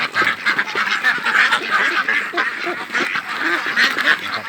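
A flock of Yi Liang breeder ducks quacking loudly and continuously during morning feeding, many overlapping calls close by with no talking.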